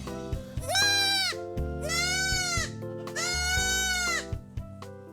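Black goats on a mountain goat farm in Jinan, North Jeolla, including a tall improved Nubian breed, give three long, loud wavering bleats close by, overlapping one another, with no talk.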